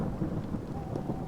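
Rain pours steadily in Minecraft while thunder rumbles low underneath, a dense, even patter with a deep roll that stays close and fills the short stretch without any voices.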